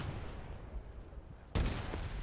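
A Japanese 105mm gun fires in the WW2 real-time strategy game Gates of Hell: a single sharp, loud blast with a rumbling tail after a stretch of low battlefield noise.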